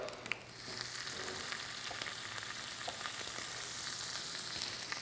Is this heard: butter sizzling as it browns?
yes